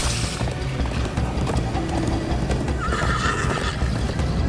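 A horse gallops in the Minecraft Story Mode video game, with steady clip-clop hoofbeats under repeated whinnies and neighs, loud and close against a busy game soundtrack.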